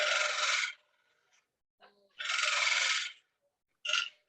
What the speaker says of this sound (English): 1/2-inch bowl gouge, and so just clean it up real quick, doing a tool cut using the wing of the tool